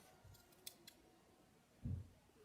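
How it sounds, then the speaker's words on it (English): Scissors cutting armholes into an old sock: faint, close snips, a couple of quick crisp clicks early on, then a louder, duller crunch of blades closing through fabric, otherwise quiet. "now you want to cut those holes out with your scissors"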